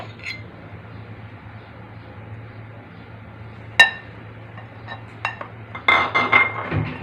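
A spoon clinks against a bowl while rasmalai milk mixture is stirred: a few sparse, sharp taps over a low steady hum, then a quicker cluster of clinks and scrapes near the end.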